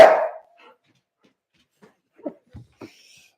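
A small dog gives a few short, sharp barks and yips spaced over a few seconds in an otherwise quiet room, starting with one louder burst.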